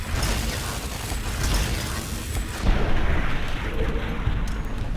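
An overclocked turret in Fallout: New Vegas fires in a dense, continuous mechanical barrage, a loud sustained clatter of rapid shots that surges slightly louder partway through, with no talk.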